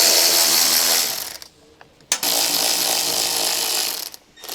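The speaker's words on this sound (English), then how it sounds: "Use a T20 bit with an electric ratcheting wrench." An electric ratcheting wrench with a T20 bit whirs loudly and steadily, stops briefly, then buzzes again as it removes the upper retaining nuts on a mud flap of a 2010-2016 Land Rover Discovery 4.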